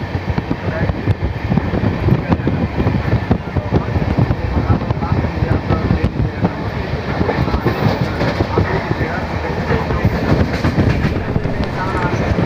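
A passenger train rumbles along on a reserved Delhi-to-Amritsar run, with a loud, continuous rattling roar and rhythmic wheel clatter on the rails throughout.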